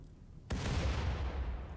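Drones exploding in the RimWorld Biotech video game: after a quiet start, a sudden loud blast hits, then a sustained rumbling roar of detonations continues close by with no talk over it.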